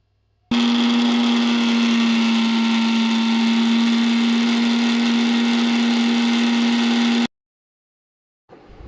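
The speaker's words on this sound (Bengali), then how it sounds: "এটাকে মিক্সারে পেস্ট করে" An electric mixer grinder blends ginger, garlic, onion and green chillies into a paste, a loud, steady whirring drone close up that runs for about seven seconds and then cuts off abruptly into silence.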